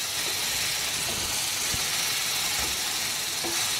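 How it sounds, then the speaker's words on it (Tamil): Chopped ridge gourd with salt sautéing in a pan for chutney, a steady close hiss of sizzling with a few soft stirring knocks and no talking. "சேர்த்து விட்டு நல்லா வதக்கணுங்க."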